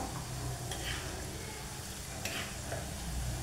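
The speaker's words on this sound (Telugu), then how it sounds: "గ్రాంబు ఒక 12 గ్రాంబు వేస్తున్నాను" Twelve whole cloves dropped into hot oil on a stove for a homemade pain relief oil, giving a steady low sizzle and bubbling with a couple of faint stirring clinks.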